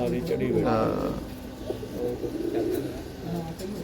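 Low, throaty cooing from several pigeons swells and fades in repeated rolling phrases, fairly close and moderately loud, with a voice talking faintly in the background.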